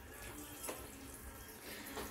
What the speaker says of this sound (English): Now let the water get filled in it.